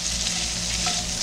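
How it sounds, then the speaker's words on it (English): Diced onions and green bell peppers frying in a pan, giving a steady, close sizzle and crackle that runs without pause, with no talk over it. "Can you hear the sizzle?"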